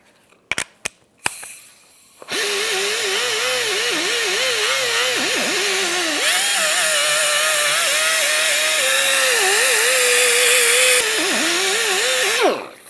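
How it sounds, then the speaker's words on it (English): A pneumatic air tool works on the rear wheel hub of a 2012-2018 Nissan Altima with a Scotch pad: a steady, loud mechanical whir runs continuously for about ten seconds after a few sharp clicks, its pitch wavering slightly. "I'm going to speed it up, use my air tool."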